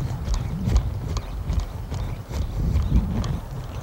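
A horse being turned by the head on a ranch, hooves clip-clopping in an uneven, close walking rhythm on firm ground, with a voice faintly present.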